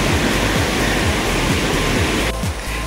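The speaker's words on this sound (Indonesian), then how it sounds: "suara gemericik airnya juga" Steady rushing water from a mountain spring on a hill hike at 1331 m, a loud, constant wash with a faint rhythmic thudding underneath and no speech.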